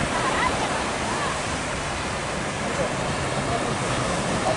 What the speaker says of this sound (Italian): Il mare è abbastanza mosso, buono per i surfisti.